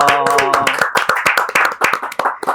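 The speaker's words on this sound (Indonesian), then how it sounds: "Tepuk tangan dulu dong." Podcast hosts clap their hands together in a quick, loud burst of close claps, with a brief voice at the start.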